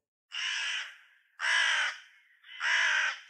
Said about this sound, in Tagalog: Ang mga uwak nagsilabasan mula sa kung saan.